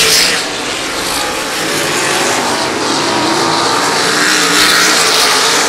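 Race cars at Valley Speedway roaring around the track in a dirt-track main event, a dense, loud, continuous engine wash with shifting revs and no speech.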